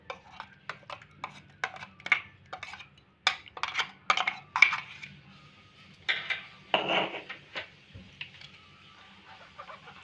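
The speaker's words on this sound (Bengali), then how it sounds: "এবার আমি ছেঁকে নেব।" Blended tomato sauce with garlic and onion is pressed through a sieve. A utensil scrapes and taps against the metal mesh in short irregular strokes, close and moderately loud, with brief pauses between the bursts.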